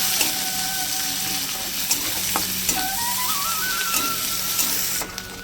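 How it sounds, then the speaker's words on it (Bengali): Chopped onion, garlic and green chili fry in hot oil in a pan, sizzling loudly and steadily with occasional scraping stirs and clinks of the utensil. "দিয়ে দেবো পেঁয়াজ কুচিটা, পেঁয়াজ কুচি আর কাঁচা লঙ্কা। এবার দিয়ে এটাকে ভালো করে ভেজে নেবো আমি"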